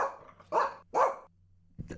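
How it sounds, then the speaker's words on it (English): A studio dog barks close by, giving two sharp, loud barks about half a second apart, then a softer yip near the end. "So that's just our studio dog."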